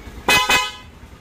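Two short, loud horn beeps in quick succession from a Yamaha Mio motorcycle horn, close by, then quiet.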